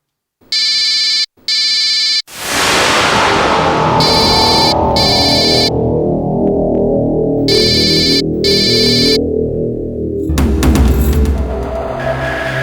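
An electronic phone ringtone sounds in two short tonal bursts, then a loud whooshing dramatic sound effect swells in, with further ringtone bursts repeating over it and a crash-like hit near the end.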